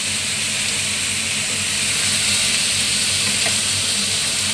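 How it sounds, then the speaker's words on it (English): Chicken wings for adobong manok fry in hot oil, a loud, steady, close sizzle and hiss that continues without a break. "this is frying? Fry first."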